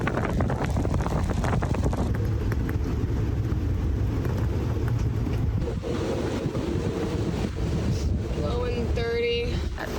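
Strong wind gusting around 30 roars and buffets the microphone continuously aboard a 32-foot sailboat, with heavy gusty rumble and faint water or boat noise beneath.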